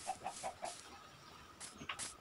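Chickens cluck in a video game: a quick run of soft, faint clucks, then a short pause and a couple more, all quiet and somewhat distant.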